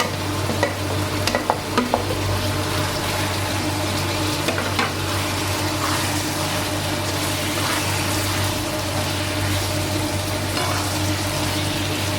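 Spicy pork cartilage with fingerroot stir-fried in a pan, giving a steady sizzle with scraping and stirring clatter of a spatula throughout, continuous and close, with no talking.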